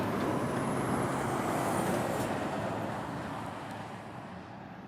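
Air brakes on a pair of Scania trucks at Truckfest give off a loud, sustained hiss that slowly fades, set against broad outdoor truck and crowd noise.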